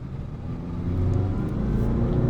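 A Mercedes GLS550 in sport mode accelerates uphill, its engine droning steadily and building in loudness as the revs rise, heard from inside the cabin.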